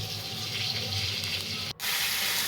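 Water runs steadily from a tap while cut bottle gourd pieces are washed in a kitchen, a continuous close gush that stops for a moment near the end and then resumes.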